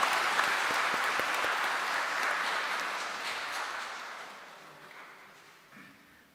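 Church congregation at a Christmas celebration clapping together, a dense burst of applause that gradually thins and fades away over several seconds.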